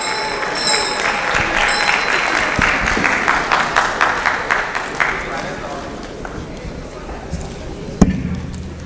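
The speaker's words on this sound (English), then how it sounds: "A round of applause for her." Audience at an inter-medical-school public speaking competition applauds a speaker, a full burst of clapping that thins into scattered claps and fades out, ending with a single sharp knock.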